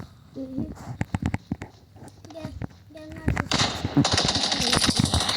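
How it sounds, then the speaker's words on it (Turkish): Gunfire in the mobile battle-royale game PUBG Mobile crackles in short rapid bursts under a young speaker's excited talk, growing denser and louder toward the end. "bu silahla seni vuramam mı?"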